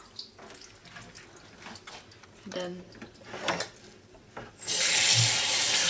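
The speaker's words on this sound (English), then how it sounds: "rinse it with some water, just a quick rinse, just like that" Faint clinks and handling noises give way to a loud, steady rush of tap water rinsing cabbage in a colander for kimchi, the water running strongly through the final second and a half.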